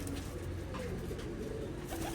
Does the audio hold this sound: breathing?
no